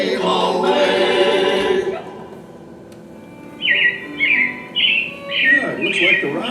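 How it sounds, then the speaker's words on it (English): Bright robin chirps from the Carousel of Progress attraction at Walt Disney World's Magic Kingdom come in a quick series of short calls, fairly clear and close, after a stretch of voice and music fades out. "It looks like the Robins are getting ready to celebrate Valentine's Day today."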